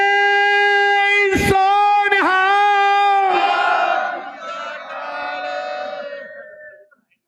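A large crowd at a sports ground roars a loud, sustained Sikh jaikara chant in unison, voices rising together then trailing off into scattered shouting.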